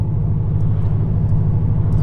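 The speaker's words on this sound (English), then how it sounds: "You got the Boxer rumble too, which I'm sure you guys have heard all video" A Subaru STI boxer engine gives off a steady, deep, low rumble, loud and close, without any talking over it.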